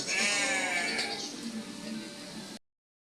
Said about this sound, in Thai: แบ่หรือว่าแพะนะ โอ้ยร้องดังมากเลย